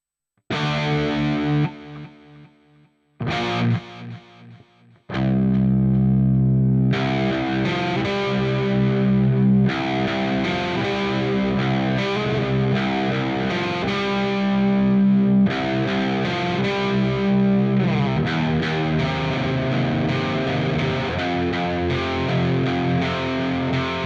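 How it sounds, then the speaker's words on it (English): Electric guitar through an Ampero II Stomp with a dual delay and chorus effect, a shimmering, modulated tone with echoing repeats, playing loud and continuous after a brief opening phrase. "I set up a dual delay, which contains a delay and a chorus, and that sounds like this."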